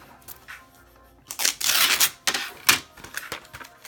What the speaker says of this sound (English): Now I'm going to go ahead and trim this with the paper trimmer.